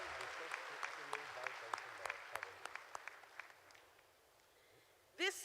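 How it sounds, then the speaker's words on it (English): Crowd applause at a university graduation ceremony in Uganda, fairly faint and distant, with sharp individual claps and a speaking voice over it, fading out before a loud sound at the very end. "Let us give class of 2024 a thundering applause."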